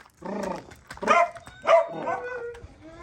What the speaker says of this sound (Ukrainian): Ну а маленькі, не гавкайте.